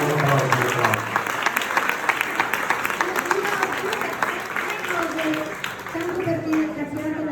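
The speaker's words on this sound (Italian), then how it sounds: "Un applauso." Sustained audience applause fills a charity gala hall for the Venice fire brigade, dense and steady for several seconds, with voices talking over the clapping.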